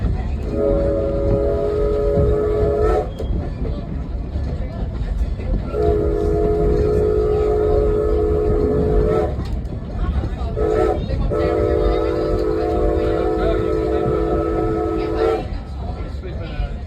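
A Strasburg Railroad train in Pennsylvania passing close by with a constant rumble of wheels on rail, its horn sounding three long blasts with brief gaps between them.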